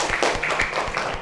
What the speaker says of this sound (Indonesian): Sekarang, ya boleh tepuk tangan dulu untuk kita semua.